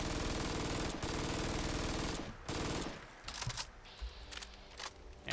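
MG3 medium machine gun in Fallout 4 fires a loud, sustained automatic burst for about two seconds, then breaks into shorter bursts and scattered shots with mechanical clicks, with no voices.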